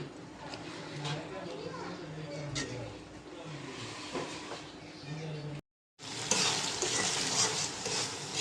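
Dried poa fish being stir-fried with spices in a pan, a steady sizzle with stirring scrapes; someone talks over it, then after a brief silence a louder, brighter sizzle returns.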